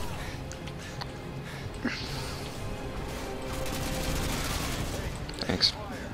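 Gunfire in the video game Modern Warfare 2 during a co-op Spec Ops mission, a dense, continuous rattle of shots with a few sharper cracks, fairly loud throughout.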